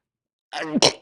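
A single short sneeze bursts out after a moment of silence, a quick sharp inhale followed by an explosive snap.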